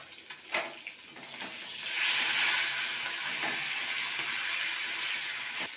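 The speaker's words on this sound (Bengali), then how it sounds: "দেখুন, মাছের মাথাটা ভাজা হয়ে গেছে" Fish head sizzling in hot oil for a rice-and-fish-head muri ghonto, a steady broadband hiss with a few sharp crackles and pops, close and fairly loud, no talking.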